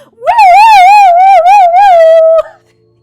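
A loud, close ambulance siren sound effect gives a single warbling wail of about two seconds that rises, wavers, and cuts off abruptly.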